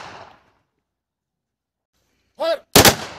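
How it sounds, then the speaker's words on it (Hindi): Ceremonial rifle volley at a funeral honouring a fallen CRPF jawan: one sharp crack followed by a louder, broadband gunshot burst, close and ringing briefly, after a short fading voice and silence. "तीन बार फायर करेंगे"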